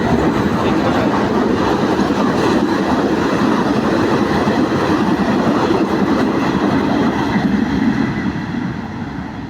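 Thai local train no. 448, led by an Alstom locomotive, rolls in on the railway in the morning with a loud, steady rumble and faint clickety-clack that holds throughout and then eases slightly at the end.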